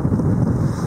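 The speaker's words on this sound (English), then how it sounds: "Hopefully you can even hear it, that's how windy it is." Strong wind at South Pole Station blasting the microphone, a loud, continuous low roaring rumble across the whole brief moment, with no voices.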